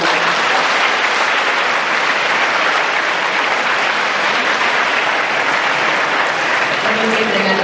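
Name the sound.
audience applause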